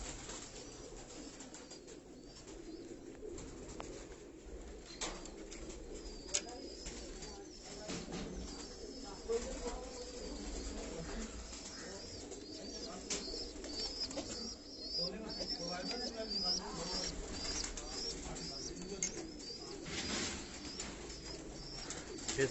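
Pigeons coo and flutter on a Karachi rooftop loft, soft repeated cooing and occasional wing flaps over a steady outdoor background, with someone talking nearby.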